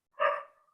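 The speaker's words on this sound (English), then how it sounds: "I'm sorry if you can hear dogs barking in the background." A single short dog bark in the background of a council work session meeting, fairly faint and distant, rising quickly then trailing off.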